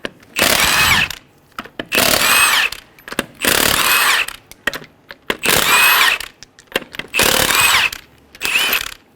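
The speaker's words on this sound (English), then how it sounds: "Using a 19mm socket, remove the 5 lug nuts." An impact wrench with a 19mm socket removes the five lug nuts from a 2003-2008 Honda Pilot, sounding as six loud, close buzzing bursts of about a second each, separated by short pauses.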